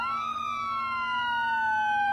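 An ambulance siren in an emergency-response video game, a loud continuous wail with a slowly falling pitch and a steady low drone beneath, heard alone.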